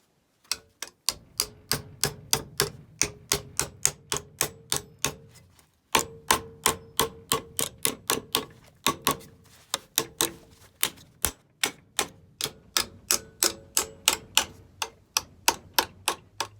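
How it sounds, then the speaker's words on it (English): Rapid metallic tapping of a small ball peen hammer on a wooden axe handle, steady rhythmic strikes in quick bursts with brief pauses, close and fairly loud. "I'm just going to take a little ball peen hammer and roll it around the back of the handle"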